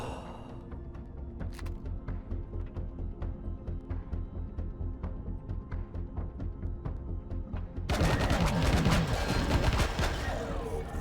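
Rapid automatic gunfire in the space survival game Empyrion Galactic Survival, a steady stream of regular shots that swells into a louder, denser burst of firing and impacts near the end.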